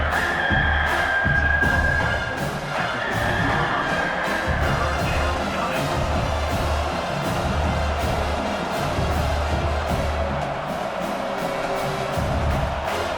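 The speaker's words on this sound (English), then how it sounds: "listen to this crowd noise" Stadium crowd noise from an EA College Football game with Oklahoma visiting South Carolina, a sustained roar with swelling cheers under a commentator talking throughout.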